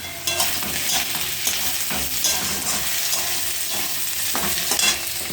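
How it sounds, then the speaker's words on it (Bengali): Onions frying in a pan for jhuri, a steady broadband sizzle with repeated stirring scrapes throughout, close and fairly loud with no talking. "তাই পেঁয়াজ ভেজে নিচ্ছি।"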